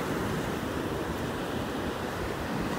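Surf rolls and breaks along a beach in North Naples, Florida, a dense, unbroken roar of waves mixed with wind noise, loud and steady throughout with no voices.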